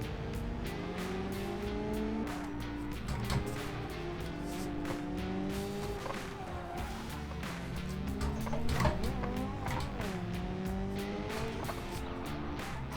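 A race car in a sim racing game driven on a Fanatec CSL DD direct-drive wheel, engine revving and rising through gears with a rough shift into second, tires squealing and scrubbing under a steady, loud engine drone.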